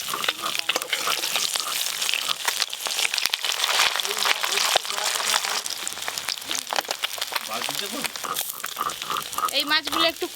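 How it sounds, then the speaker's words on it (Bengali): Fresh parshe river fish fry in mustard oil with a dense, crackling sizzle that runs the whole time, broken by short spatters. A person talks over the frying in places. "এবার আমি মাছগুলো খুব ভালো করে ভেজে নেব।"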